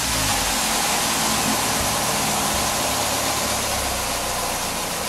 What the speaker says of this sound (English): So I'll start the car now